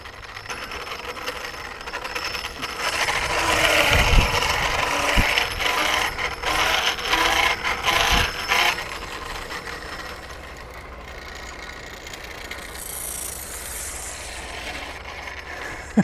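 Flywheel-equipped bicycle with a kinetic energy recovery system, its flywheel and clutch whirring and clicking; a ratcheting mechanical spin swells in the middle with a few sharp knocks, then fades to a quieter hum.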